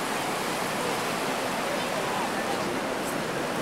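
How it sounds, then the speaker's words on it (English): A river cascading over an edge into a waterfall gives off a steady, dense hiss of rushing water, even and unbroken, heard from some distance and fairly faint. "it's a river, and then it kind of cascades over the edge right there, becomes that waterfall"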